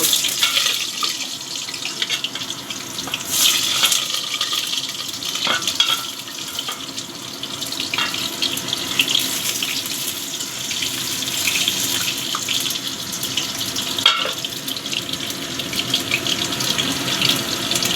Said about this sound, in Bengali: তেলটা আমার গরম হয়ে গেছে এবার আলু প্রথমে ভেজে নিচ্ছি